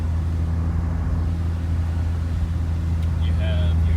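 A Honda car driven during a datalogging run, its engine humming steadily and close from inside the cabin, with a few faint high chirps near the end.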